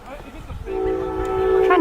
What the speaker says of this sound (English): We got a lot of trains in the comb, so you might be able to hear those trains too.